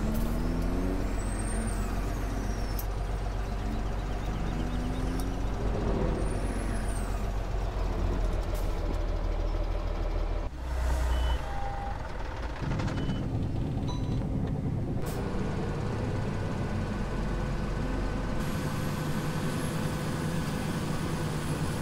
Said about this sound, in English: I need to get a truck ready to pick up the corn